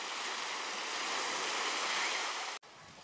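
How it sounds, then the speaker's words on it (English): Gentle surf at Barefoot Beach, Florida, with light waves producing a steady broadband wash that holds evenly, then cuts off abruptly near the end. "Beautiful green water, light waves"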